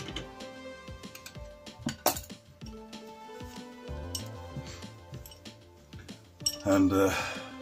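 A metal nut and washer clink and tap sharply while being fitted onto a Rotoflex hub during restoration, with scattered close metallic knocks and a louder clatter near the end.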